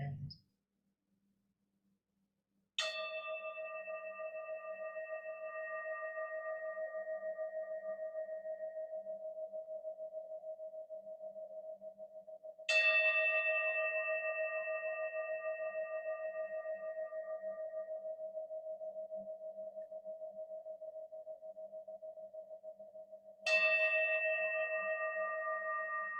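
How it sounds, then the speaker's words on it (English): Three struck meditation bells ring out one after another about ten seconds apart, each a clear resonant strike that sustains and slowly fades before the next, with the first arriving after a brief silence. "gently tracking the sound of bells all the way to the end."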